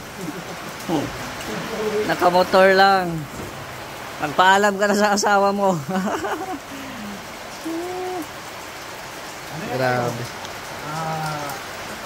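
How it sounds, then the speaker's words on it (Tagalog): Heavy rain pours down suddenly in a steady, dense hiss, heard beneath people talking in bursts. "Biglang lumakas yung ulan, guys."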